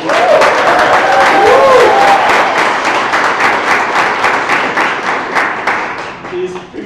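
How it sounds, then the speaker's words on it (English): Dense applause from a large audience at a Galvanize g55 capstone event, loud and sustained before tapering near the end, with a few voices calling out briefly over the clapping. "So give a round of applause for him."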